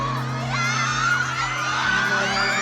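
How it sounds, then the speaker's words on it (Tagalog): A crowd of fans shouting and cheering at a live performance by TV cast members in Zamboanga City, a continuous loud roar of voices with shrill screams rising over it. "Todo hiyawan sab ang fans dihang nag-perform si Rahil."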